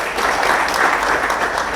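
Audience members at a Black Tech Week talk break into clapping, a short, loud burst of dense applause filling the room without pause.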